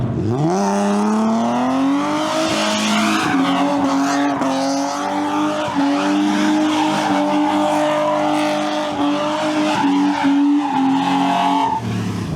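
A BMW E30 with a 410 rear limited-slip differential, 535i clutch and single-mass flywheel slides, its tires squealing loudly and continuously over a droning, rising engine for the whole stretch.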